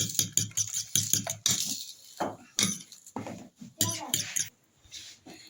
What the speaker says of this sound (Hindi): दोनों अंडों के आपस में इस तरह हमने कर लेना मिक्स